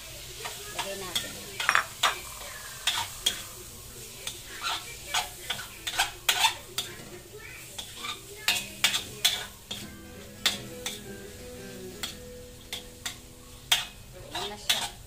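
Eggs frying in a pan for tofu sisig, a low steady sizzle under frequent clicking taps and scrapes of a utensil against the pan, close by, with no clear talk.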